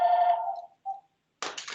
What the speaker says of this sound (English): sorry, phone's ringing here